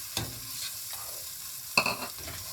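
Ginger-garlic paste hits a hot pan for chicken masala khichdi, sizzling steadily while a spoon stirs and scrapes in two distinct bursts, close and without talk.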